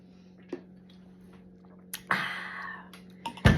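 A person takes a drink of water, with a few close wet gulping and slurping bursts over a steady low electrical hum, ending in a louder swallow.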